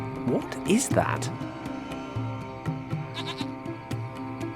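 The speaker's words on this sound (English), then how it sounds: "It's a small goat." A small goat in the video game Lost Horizon gives a few short bleats near the start, heard alongside game ambience and someone talking throughout.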